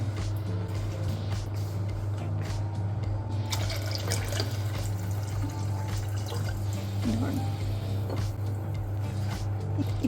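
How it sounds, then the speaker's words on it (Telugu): Water poured into a cooking pan while making rice ravva upma, a steady running, splashing pour heard close and continuous over a low kitchen hum, with no talking. "3 కప్పుల వాటర్ వేసుకుంటున్నాను."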